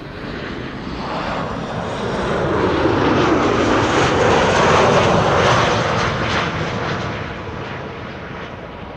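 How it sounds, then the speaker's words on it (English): A KLM jet airliner arriving from Stuttgart roars in to land on runway 36 right at Amsterdam Schiphol, its engine noise swelling to a loud, broad peak mid-pass and then easing off, with no voices. "KLM flight 1828 arriving from Stuttgart."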